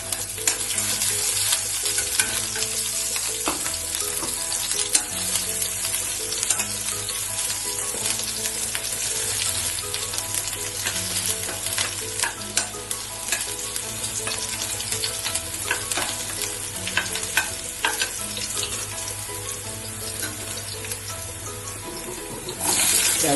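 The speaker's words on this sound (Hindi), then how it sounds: "जीरा डाल देंगे, काली मिर्च, लौंग, अदरक, हरी मिर्च, लहसुन" Cumin, black pepper, cloves, ginger, green chili and garlic fry in hot oil for moong dal khichdi, a loud continuous sizzle and crackle close by with occasional stirring clinks, without speech.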